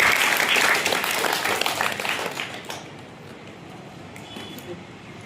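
Students at a school science event break into loud clapping that gradually thins and fades, leaving a quiet room with faint scattered sounds.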